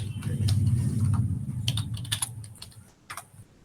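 Keyboard keys typing out Linux commands on a Parrot OS computer, a scatter of light close clicks and taps, faint under a low background hum, with a couple of separate key presses near the end.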